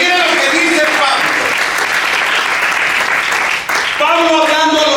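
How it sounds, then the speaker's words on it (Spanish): A church congregation applauding loudly, a dense wash of clapping that fills the space, with a voice speaking over it at the start and again near the end. "Denle un aplauso fuerte al Señor."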